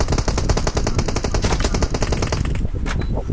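Rapid automatic gunfire in the battle royale game PUBG Mobile, a loud continuous rattle of shots fired at an enemy, close and dense for nearly the whole stretch before easing off briefly at the end.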